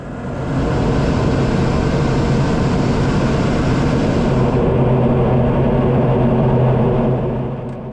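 Light aircraft landing at Oshima airport on Izu Oshima island, a steady loud engine drone and broadband rumble with no break, heard from inside the cabin and no talking.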